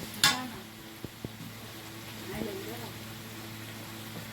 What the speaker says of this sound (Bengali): এবারে এখন জল ঢেলে দেবো